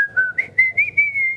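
A tin whistle plays a short run of clear, bright sustained notes in a steady stepwise phrase, close and fairly loud, with no voices over it.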